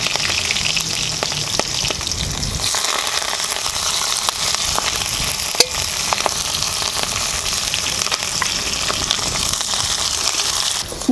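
Onion hits hot oil with mustard seeds and cumin, bursting into a loud, crackling sizzle that stays dense and steady, heard close with no voices.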